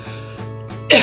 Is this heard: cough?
yes